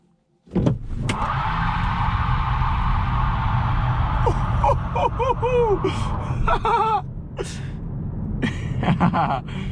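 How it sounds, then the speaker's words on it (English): A 2019 Hyundai Kona Electric does a burnout with traction control off, its tyres screeching and squealing in loud, wavering bursts over a rising electric motor whine, with sharp chirps and a voice gasping nearby. "Electric burnouts."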